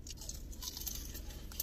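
Steady close-up chewing of a crunchy smoked roast pork sandwich, with a continuous moist crunch running for a moment under a low background hum and no speech.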